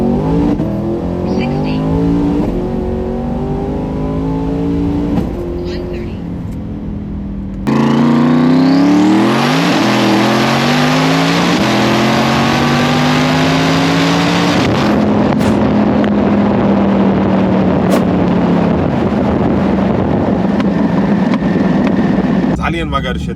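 A tuned 2024 Camaro ZL1 accelerates hard on a street, its engine roaring loud and close, with rising gear pulls, a sharp shift and a sustained high-revving drone. A voice talks over the engine noise throughout.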